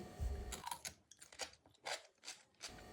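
Crisp crunching of quick lightly salted cucumbers made in a bag, heard as a series of sharp, close bites and chews in irregular bursts over a few seconds, with no talking.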